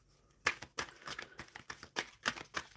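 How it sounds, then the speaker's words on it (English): A deck of tarot cards shuffled by hand, heard as a close run of quick irregular riffling snaps and taps, fairly quiet and with no talking. "All right, I am shuffling spirit for the collective"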